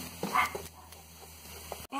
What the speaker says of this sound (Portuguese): não liga não, porque os cachorros estão latindo